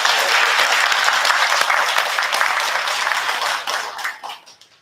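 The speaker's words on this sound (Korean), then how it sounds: "환영의 박수 부탁드립니다." Welcoming applause from a congregation at a centennial Mass for a hanok-style Catholic church, dense and steady for several seconds before thinning and fading out near the end.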